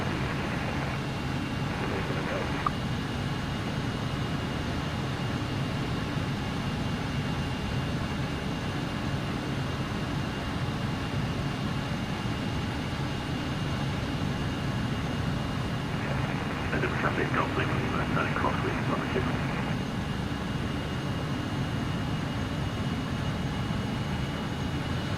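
A simulated RJ100 airliner on a crosswind landing approach in Microsoft Flight Simulator 2024, its engines a steady, even drone throughout, with a brief hiss-like swell partway through.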